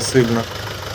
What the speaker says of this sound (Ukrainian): На майданчику зараз знаходиться у нас такий тракторець.